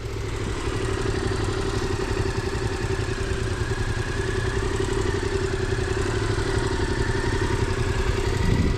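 Motorcycle engine started and idling during a CBT training lesson, a steady close mechanical chug with light clatter that holds evenly throughout, with no talk over it.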